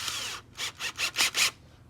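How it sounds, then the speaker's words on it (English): A power drill whirs in one longer burst, then several short pulses in quick succession, close and fairly loud. "So let's continue to drill."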